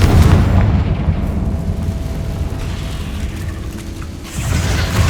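A Confringo fire-blast spell explodes in Hogwarts Legacy, a loud rumbling boom at the start that trails off into a low roar, with another swell of blast noise near the end.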